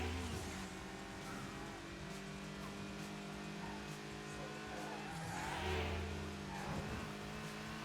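Car engine racing in the video game Midnight Club: Los Angeles, a steady droning roar that rises and falls slightly with revs, with game music and effects layered underneath.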